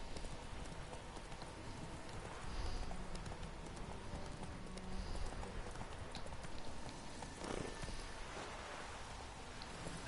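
Hoofbeats of Roach, the horse in The Witcher video game, clop steadily in a continuous rhythm for the whole stretch at moderate distance, with no voices over them.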